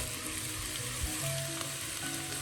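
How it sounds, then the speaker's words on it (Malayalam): Sliced onions sautéing in hot oil in a pan for Kerala-style fish masala for fish biryani, with a steady close sizzle and crackle, occasional stirring clinks, no voices. "അതിന് വെച്ചിരിക്കുന്ന സവാള ഉള്ളി ചേർത്ത് വഴറ്റാം."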